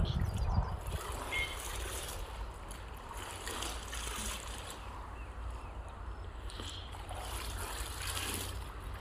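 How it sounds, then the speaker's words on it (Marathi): Water gurgles and rushes steadily in a full farm well, a continuous close churning with no pauses. "पाणी भरपूर आहे. खळखळ हिर भरली आज आपली."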